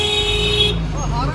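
Car horns blare in a slow-moving traffic jam on the Jammu to Srinagar road, a steady held tone that cuts off partway through over rumbling road noise, with a voice heard briefly.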